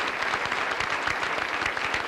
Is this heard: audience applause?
yes